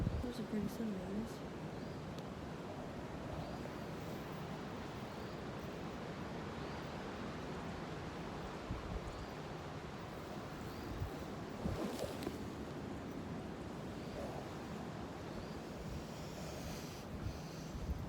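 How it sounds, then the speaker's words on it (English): Strong wind gusting hard on a mountaintop along the Pinhoti Trail at sunrise, a steady loud broadband roar buffeting the microphone for the whole stretch, with no pauses. "Wind blowing real hard"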